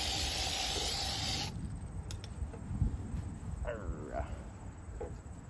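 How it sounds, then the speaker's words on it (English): Spray blasts at hornets in a loud, continuous hiss for about a second and a half, then cuts off abruptly, leaving faint outdoor ambience with a few light chirps. "I knock you down with the spray and then I catch you"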